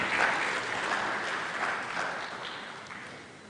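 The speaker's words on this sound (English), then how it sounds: "Let's give him one last round of applause," Sustained applause from an audience at an e-mobility week event in Africa in 2024, a steady dense clapping that swells at the start and slowly tapers across the few seconds, with no talk over it.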